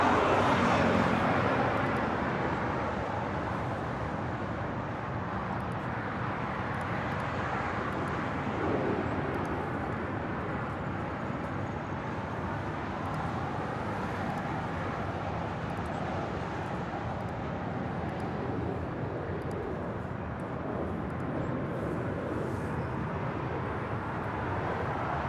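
An American Airlines jet pushing back at LAX, a broad steady engine and ground-equipment roar heard from a distance, constant throughout with no voices.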